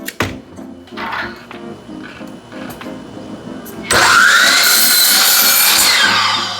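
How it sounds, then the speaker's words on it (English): A miter saw cuts through glued-together wood pieces for a small woodworking project. Light tool handling comes first, then a loud, steady cutting roar begins midway and holds to the end. "We're going to start with those at the miter saw. We're going to start by cutting our floor 8 inches."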